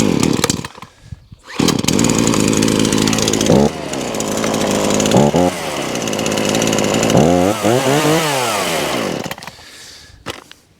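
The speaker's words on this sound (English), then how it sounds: "2-stroke chainsaw now all up and running" A loud Titan two-stroke chainsaw, just fitted with a new pull cord and primer bulb, runs close up, its engine revving up and down in repeated surges before cutting out near the end.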